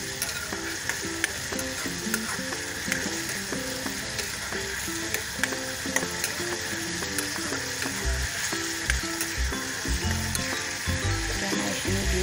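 Ground turmeric, cumin, chili and coriander mixed with salt fry in hot oil for a home-style fish curry, giving a steady close sizzle with intermittent scraping and stirring clicks throughout, with no voices.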